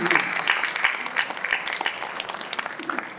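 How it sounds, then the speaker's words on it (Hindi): Audience applause at an all-India Hindi poetry gathering (kavi sammelan), a steady dense wash of many hands clapping throughout, moderately loud and sustained without a break. "एक बार तालियां बजा दीजिए"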